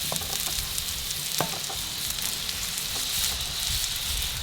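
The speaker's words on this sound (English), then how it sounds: "you wanna place the bread right on the pool of butter" Bread laid onto a pool of melted butter on a griddle sizzles steadily up close, with a few small taps and pops of handling over the continuous fry.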